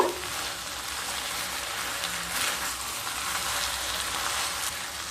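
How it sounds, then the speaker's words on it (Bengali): Hilsa fish head cooking with taro stolons in oil sizzles steadily in a pan, a continuous bright frying hiss with faint stirring scrapes underneath, close and even, with no talking. "এবার খুব ভালোভাবে মিশিয়ে নেব।"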